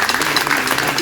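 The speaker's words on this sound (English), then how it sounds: "So a big round of applause for that" An audience at a local council meeting breaks into a short burst of clapping, a fairly loud, even patter of many hands with no talk over it.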